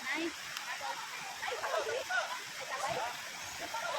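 A strong river swollen by rain roars steadily throughout, a broad continuous wash of flowing noise with no pauses.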